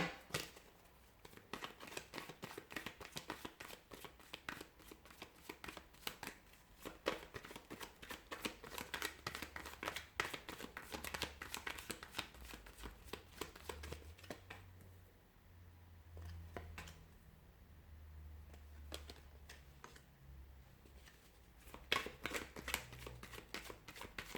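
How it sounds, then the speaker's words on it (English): Tarot cards being shuffled repeatedly, a dense run of quick riffling and slapping sounds close up, with brief pauses before more shuffling. "give the cards a shuffle"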